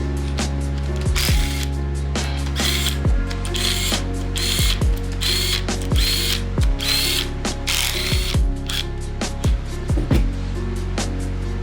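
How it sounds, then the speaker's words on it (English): A small 8mm impact wrench zips off rocker arm bolts on a junkyard 5.3L LS engine, with about a dozen sharp ratcheting bursts spaced a second or so apart, loud and close over a steady mechanical hum, with no talking. "You're going to want to break the rocker arms loose first and then remove the rest of the bolts with the 8mm impact."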